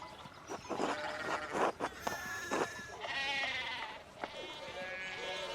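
Sheep in the video game Pentiment, bleating repeatedly in short wavering cries from several animals, fairly close and clear over a quiet background.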